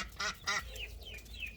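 A broody duck sitting near her nest gives two short, raspy quacks, then several softer, drawn-out calls. The calls are close but quiet over faint background noise.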